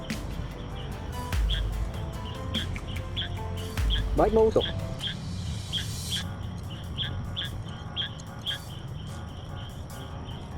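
Repeated bird chirps ring out through a campsite in Baguio, bright short calls scattered over a low background hum, with a person speaking briefly partway through.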